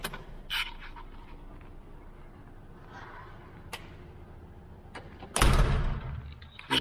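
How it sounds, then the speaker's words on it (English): Foyer door swinging shut under its closer: a few faint clicks and creaks, then a loud impact as it meets the frame, followed by a brief rattle, no talking. "Oops, the door closer working."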